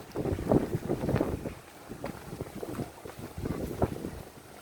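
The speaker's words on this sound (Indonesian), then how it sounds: "Oh, angin mulai datang" Gusty wind buffeting a microphone aboard a small fishing boat at sea near Pulau Pasaran, with continuous roaring rumble, rising and falling gusts, and water and hull noise beneath.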